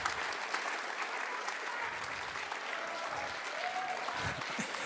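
Audience applause, dense and continuous clapping from a crowd, steady at moderate loudness throughout with no voices over it.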